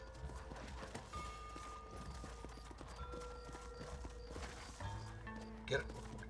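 Horse hooves clip-clop in a steady rhythm, fairly faint, with brief voices and game-like sounds around them, in the video game Red Dead Redemption.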